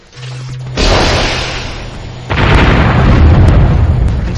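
A laser satellite strike fires in the strategy game Warzone 2100, a loud broadband blast that hits suddenly and then swells into a second, heavier rumbling surge that carries on to the end.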